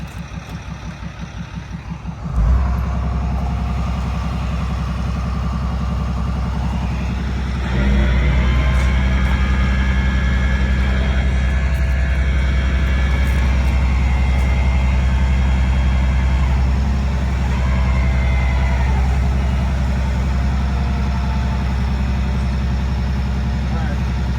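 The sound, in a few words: tow truck pulling a Mercedes onto wheel skates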